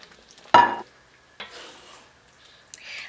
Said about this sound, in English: And now you're going to add a large bunch of your vegetables and your prepared prawns to the gravy.